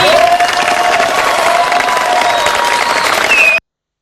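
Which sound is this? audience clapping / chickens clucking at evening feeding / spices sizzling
audience clapping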